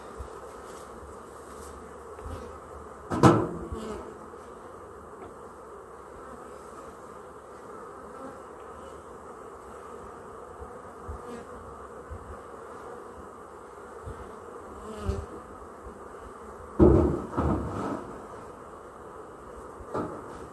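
Honeybees hum steadily through an open-hive inspection, a close continuous drone with brief louder knocks and rustles of frames at two moments.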